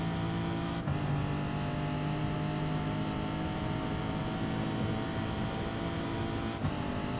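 Race car engines roar in Gran Turismo Sport at the Bathurst circuit, holding a continuous loud, buzzing drone with steady harmonics. Two brief dips mark gear shifts before the engines climb again.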